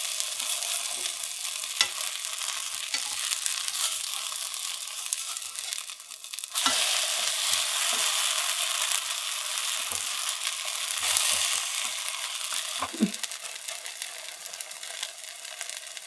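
Keto pancakes made without almond flour sizzle steadily in a hot pan, a continuous crackling fry with a few soft scrapes and taps partway through, and no one talking.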